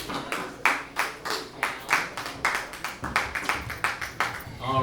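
Audience at a comedy club in the Fresh Spot Lounge, Middleburg, Florida, clapping in a brisk, steady burst of applause with sharp individual claps up close, carrying on throughout.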